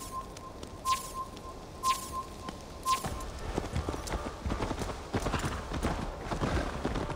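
Horse hooves clip-clop in a quick, steady rhythm on firm ground in the video game Assassin's Creed Valhalla, with faint birdsong and a few high chirps in the background.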